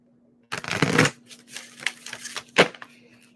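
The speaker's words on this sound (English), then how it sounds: "One more shuffle." Tarot cards shuffled in a brisk riffle, a dense papery burst followed by several lighter flicks and taps, then a second sharp riffle near the end, close and clear with a faint steady hum underneath.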